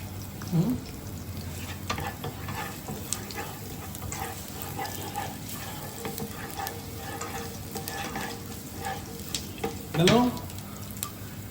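Garlic and mustard seeds sizzle in hot oil as a tempering for a coconut prawn dish, with steady frying crackle and repeated scraping stirs close by, and a voice heard briefly twice.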